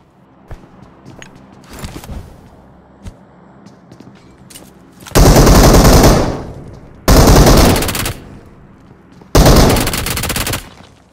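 Gunfire in PUBG Mobile during a fight with an enemy: three loud, sustained bursts of automatic fire about one to two seconds each, preceded by quieter scattered clicks and single shots.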